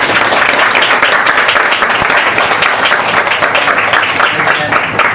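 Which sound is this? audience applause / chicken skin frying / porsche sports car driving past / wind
audience applause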